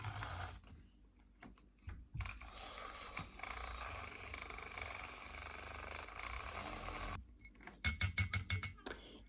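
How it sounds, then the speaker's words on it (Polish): Water at about 80°C pours steadily for several seconds into iced matcha, then a spoon clinks rapidly against the glass or cup in a quick run of light taps, close by and quiet. "Wlewanie, mieszanie i smakowanie."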